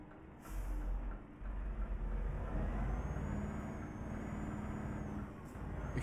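Truck engine droning steadily in Euro Truck Simulator 2 near Ljubljana, Slovenia, with a hiss like an air brake releasing near the start and a continuous low rumble as the truck drives on.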